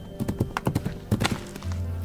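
Horse hooves clip-clop in an audio drama, a quick run of hollow clopping taps in two bursts, close and fairly loud over a low rumble, with no talk.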